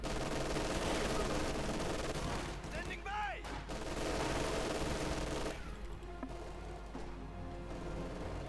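Machine gun fire crackles in a Company of Heroes 2 one-versus-one match, dense bursts of rattling shots mixed with other battle noise, steady and fairly loud throughout, with commentary at a similar level.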